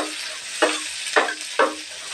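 Onions and green chillies fry in a pan under a steady sizzle, with three distinct bursts as the mixture is stirred at regular intervals.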